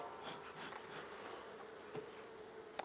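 A honeybee buzzes close to a beekeeper's hand as a hive is worked, a faint, steady drone holding its pitch throughout with a couple of soft clicks near the end.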